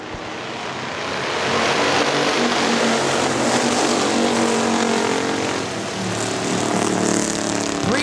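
Factory stock race cars roar past at Hartford Speedway, a loud sustained wall of engine noise swelling as the pack passes close by, with no talk over it.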